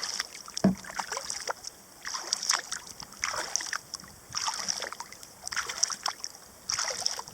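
Kayak paddle strokes on the White Oak River in North Carolina splash and drip in a steady rhythm, about one stroke every second or so, close and clear over quiet water and light wind.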